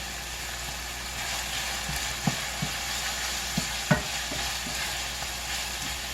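Garlic sizzling in a pan: a steady soft frying hiss with a few light clicks and scrapes as it is stirred, close by and with no talking.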